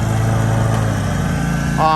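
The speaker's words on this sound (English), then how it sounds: "mowing up over here, as you can see" A steady, droning lawn mower engine running continuously while mowing grass during landscaping work, loud and close, with a brief rising tone near the end.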